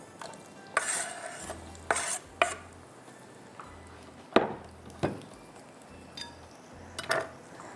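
Onions browning in a pan while being stirred, with sharp scraping and clinking strokes of a utensil against the pan at irregular intervals over a faint sizzle, close and moderately loud.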